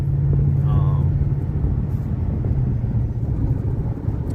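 A truck with a 6.8 engine drones steadily while towing a heavy trailer, a loud, constant low road-and-engine rumble heard from inside the cab, with a voice briefly audible.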